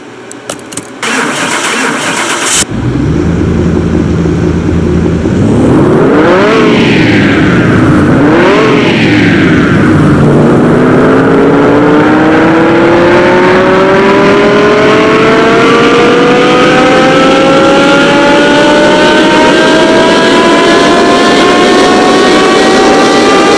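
A Lamborghini Huracán cranks and fires up at a dyno test run, then revs sharply twice before settling into a loud, steadily climbing engine drone that runs to the end.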